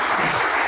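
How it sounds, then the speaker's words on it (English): Short burst of steady audience applause at a charity anniversary celebration for a coffee house, a dense even wash of claps with no break. "We've got to clap for that."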